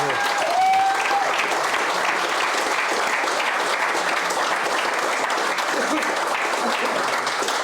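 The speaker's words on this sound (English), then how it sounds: "Can we get a round of applause for all four of them?" A crowd applauds steadily for four men after a Senior Championship final preview discussion, a dense, sustained wash of clapping that holds at an even level throughout, with a brief whistle near the start.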